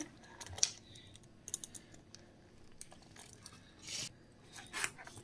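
A knife roughly chopping tomato on a cutting board in a home kitchen, a few scattered close cuts and scraping strokes with quiet gaps between them.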